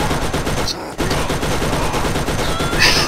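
Sustained rapid turret gunfire from a shooter video game fills the whole stretch, dense and loud with a brief gap near the start, while a player's voice is mixed into the barrage.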